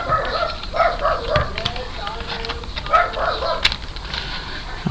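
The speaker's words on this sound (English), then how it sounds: "Sorry, dog's outside." A dog barks outside in a run of repeated, moderately distant yips and barks, heard under a continuous indoor background.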